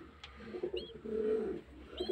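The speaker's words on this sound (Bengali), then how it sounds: "এই একটা মাদা পায়রা, আর এরও দুটো বাচ্চা দেখুন" Domestic pigeons coo softly in a low, murmuring burst in the middle, with a faint chirp or two around it, close by in a quiet loft setting.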